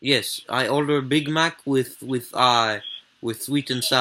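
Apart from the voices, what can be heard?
No everyday noise stands out behind the speech.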